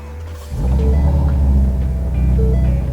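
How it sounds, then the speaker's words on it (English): A 2017 Ford Mustang GT350 engine turns over and catches after half a second, settling into a loud, deep rumbling idle close by. "So if I start the car up,"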